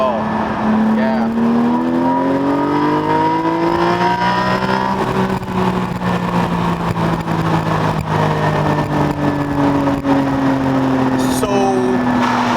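Porsche Spyder flat-six engine fitted with new air filters, revving hard with rising and falling harmonic sweeps, loud and close throughout, with a voice talking over it.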